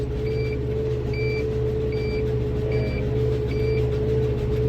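Regular warning beeps from a round hay baler about to dump a net-wrapped bale, five evenly spaced tones over a steady loud tractor engine drone.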